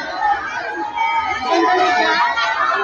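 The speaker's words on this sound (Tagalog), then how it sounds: "Ang hiyawan ng ating mga Kalingap supporters" Crowd of fans at a meet and greet cheering and screaming continuously, a dense, loud roar of voices that swells slightly toward the end.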